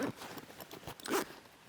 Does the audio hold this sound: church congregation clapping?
no